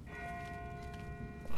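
A distant bell tolls in The Walking Dead game, steady ringing tones hanging faintly under a low ambient bed before a louder sound cuts in at the end.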